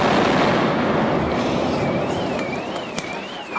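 Building demolition blast, a dense broadband roar of explosion and rumbling collapse that fills the whole stretch loudly, easing slightly toward the end with a few sharp cracks.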